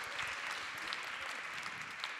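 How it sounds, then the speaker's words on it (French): Applause from the audience at a French public debate on art and health, steady dense clapping throughout at moderate volume, no voices over it. "On applaudit cette belle question."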